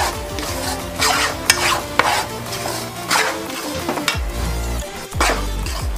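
Wheat flour roasting in a pan for panjiri is stirred steadily with a spatula, scraping and soft sizzling in repeated strokes, close and clear, no voices.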